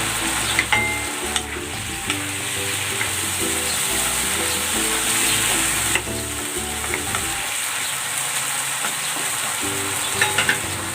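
Chicken fries in a pan with whole peppercorns and bay leaf, giving a loud, steady, close sizzle with occasional sharp pops and crackles throughout, and no voices.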